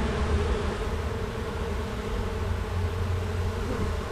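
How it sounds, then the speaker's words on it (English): Dense, continuous buzzing of a swarm of bees in a house, close and steady throughout, with no voices. "There's still a bunch of bees up in there."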